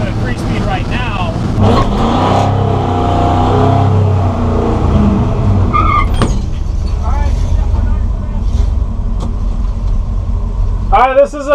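A Ford F100 pickup with a 3-speed transmission revs loudly up close, the engine pitch climbing and dropping as it shifts through the gears, with a voice heard briefly.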